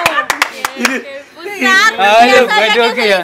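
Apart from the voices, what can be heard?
applause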